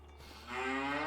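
A single drawn-out cow moo from Farming Simulator 25, rising in strength and holding near and clear to the end.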